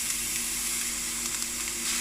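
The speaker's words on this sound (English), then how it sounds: "We'll give it some initial frying. So it's frying quite nicely." Steady frying sizzle of onion and red pepper in a hot non-stick pan, a continuous close crackling hiss with a faint low hum underneath.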